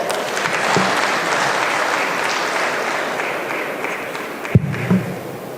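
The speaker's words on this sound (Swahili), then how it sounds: "Tuwapigie makofi" Audience applause at an Orange Democratic Movement National Governing Council meeting in Nairobi, a dense, steady clapping from a crowd lasting throughout, with a couple of louder thumps near the end.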